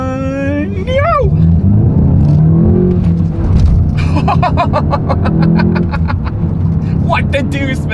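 A 2024 Volkswagen Golf GTI in sport driving mode launching hard, its engine note climbing through the revs close by while a person talks and exclaims over it.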